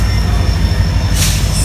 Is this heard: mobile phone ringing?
no